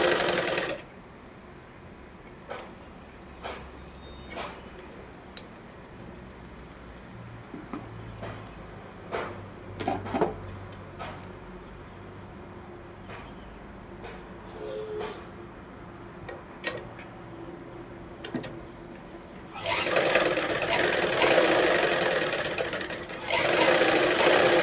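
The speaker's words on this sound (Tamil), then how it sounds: "லைனிங் மேலேயே ஒரு தையல் போட்டு" A sewing machine stitches over a blouse lining, first as quiet, scattered clicks and short bursts, then as a loud, continuous mechanical whirr of steady stitching near the end.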